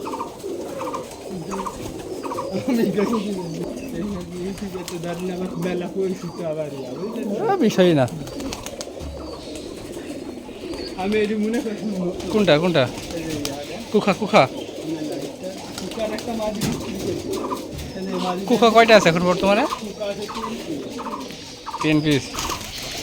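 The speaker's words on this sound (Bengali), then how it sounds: "অনেক কবুতর আছে নিচেও দেখতে পাচ্ছেন" Several Giribaz pigeons coo in low, throaty, repeated calls throughout, close by in a yard and on a tin roof, with people talking intermittently over them.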